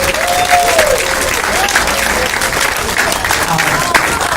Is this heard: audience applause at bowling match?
yes